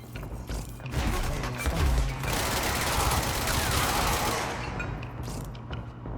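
Rapid bursts of incoming gunfire in the video game Control, a dense rattling volley lasting several seconds, fairly loud, with mechanical clatter before it tapers off.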